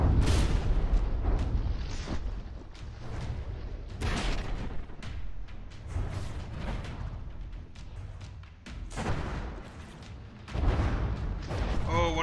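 Explosions blow a turret off a warship in the naval combat game From the Depths, heard as repeated heavy booms and impacts at varying loudness under a commentator's talk.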